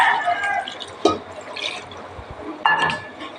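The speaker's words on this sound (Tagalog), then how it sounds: "Isunod po natin ang tubig." Water pours and splashes into a metal cooking pot of garlic, bay leaves and whole peppercorns for chicken feet adobo, close by, with a couple of sharper drips and clinks against the metal.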